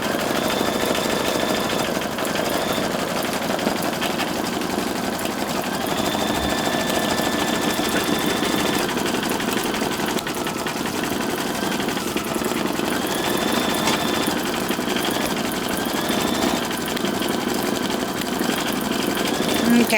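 A Brother 4000d embroidery machine stitches at 1,000 stitches per minute, producing a loud, constant mechanical whir and rapid needle rattle that runs unbroken from start to finish.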